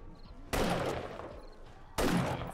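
Two loud, sharp bursts of gunfire from a gun in the video game 7 Days to Die, separated by about a second and a half of quieter background.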